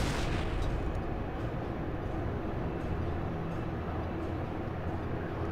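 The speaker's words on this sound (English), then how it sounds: "Have a grenade." A grenade blast in the video game Resistance: Retribution, a loud boom that sweeps in at the start and settles into a sustained, dense rumble of battle noise with no talk.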